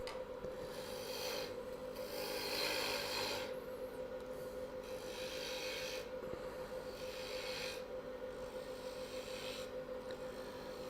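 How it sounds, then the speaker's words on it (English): Steady rasping rub of sandpaper against a turned wooden acorn lidded box spinning on a lathe, continuous and close, with brighter scratchy swells every second or so over a constant motor hum. "And then before I go too far, I'll sand it up."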